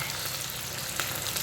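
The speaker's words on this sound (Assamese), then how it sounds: "আৰু এনেকৈ ভালকৈ ভাজি থাকিব, অলপমান ৰঙচুৱা হোৱালৈকে ভালকৈ ভাজি থাকিব।" Assamese-style pork curry ingredients sizzle steadily in a pan as they fry toward a light reddish colour, a dense, even crackle that stays close and constant throughout.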